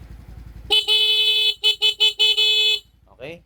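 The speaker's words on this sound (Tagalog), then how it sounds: "So, testing tayo ng busina." Idle motorcycle engine putters, then a loud horn test after a wiring harness replacement: one long honk, several short bursts, another long honk, followed by a brief voice.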